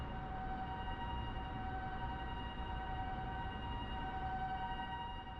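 Sirens wailing at night in the PS1 game Yuuyami Doori Tankentai, a sustained steady tonal drone with layered pitches, distant and continuous, with no voices over it.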